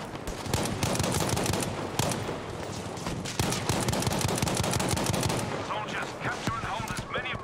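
Rapid automatic gunfire in Battlefield 5, dense loud bursts of shots with short pauses, a voice briefly talking over the shooting near the end.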